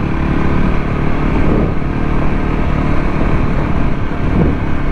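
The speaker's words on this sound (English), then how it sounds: "So let's do a bit more clutchless upshifting, standing up." Voge 300 Rally motorcycle engine running steadily under load while the rider shifts up without the clutch, a continuous close drone with slight dips at gear changes and wind buffeting the microphone.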